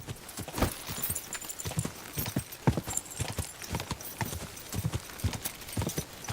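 Horse hooves clip-clopping at a riding pace in the medieval game Kingdom Come Deliverance 2, a brisk, uneven run of close, loud hoof strikes with no voices over them.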